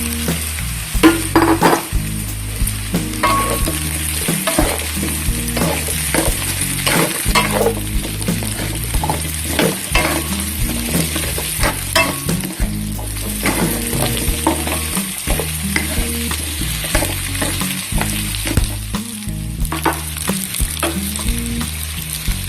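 Pork and squash sizzling loudly in a pan for a home-cooked vegetable and coconut milk dish, with steady frying hiss and repeated scraping stirs, close up, no talking.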